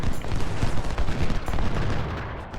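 Musket volleys and cannon fire from an American Civil War battle in Ultimate General: Civil War, a dense, continuous crackle of rifle fusillades with heavier booms underneath, loud and sustained throughout.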